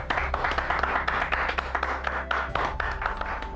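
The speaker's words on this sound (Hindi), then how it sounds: "इस बात पे तालियां तो बज सकती है।" An audience claps at a stage talk about teen health and wellbeing, a dense burst of many hands that thins toward the end, close and fairly loud, with no talking.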